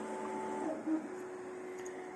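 A TWO TREES Sapphire Plus 3D printer prints PETG with a long Teflon tube, its stepper motors whining in thin steady tones at low volume, with a couple of brief pitch shifts as the moves change.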